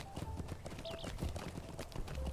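Horse hooves clip-clopping steadily in Lord of the Rings Online, a rapid rhythmic patter running throughout amid game ambience and a faint neigh-like tone.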